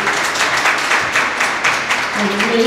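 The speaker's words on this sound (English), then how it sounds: "Big round of applause" A farm expo audience gives a round of applause to a speaker on water-resilient landscape design, loud, close, steady clapping from a sizable crowd, with a voice starting to speak near the end.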